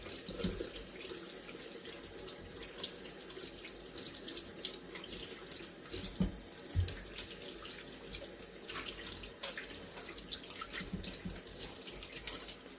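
Running tap water splashes steadily over a gutted pollock being rinsed at a sink, a continuous close wash with small bursts of splashing and handling throughout.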